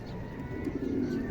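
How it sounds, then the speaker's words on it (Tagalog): A racing pigeon just back from a race gives a soft, brief cooing call, faint and close against quiet outdoor background. "pakita ko sa inyo yung kalapati kung kauuwi lang galing sa karera pero ang tapang"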